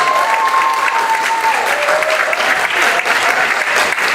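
A full round of clapping from a public school audience for student artists, dense and continuous throughout with a faint tonal sound drifting beneath it.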